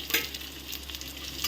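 Onions and dried chillies frying in hot mustard oil, giving a soft, continuous sizzle with light stirring scrapes, faint and close.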